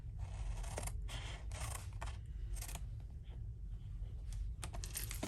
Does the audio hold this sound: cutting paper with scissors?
yes